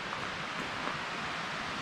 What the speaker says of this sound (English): you may be able to hear the creek in the background.